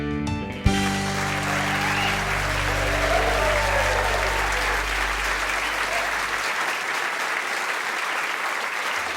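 A studio audience at the eTown radio show bursts into sustained, loud applause welcoming the host, a steady wash of clapping that swells and then gradually fades as a held musical chord rings beneath it.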